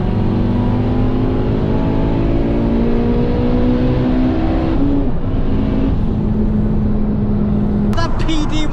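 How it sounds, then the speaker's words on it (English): A 500 bhp Honda Civic FN2 races a PD130 hybrid turbo diesel car, giving a loud, sustained engine roar and whine that climbs through the gears, with people talking over it. "Now we race a PD130 hybrid turbo on low boost around 320 brake against a notorious diesel"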